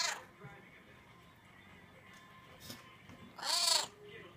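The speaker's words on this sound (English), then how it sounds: "As long as she's awake, she's gonna meow." A cat meows a few times against a quiet room, with one louder, drawn-out meow near the end.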